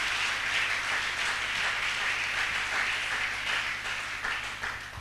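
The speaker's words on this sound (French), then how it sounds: "Acclamons la parole du Seigneur" A church congregation breaks into sustained applause, a dense, even roar of many hands clapping together that stays loud and steady throughout with no voices over it.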